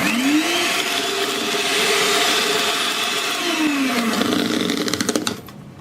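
An electric beater whirs through cake batter mixed with cooking oil, a loud steady motor whine that dips and rises in pitch a couple of times before cutting off near the end.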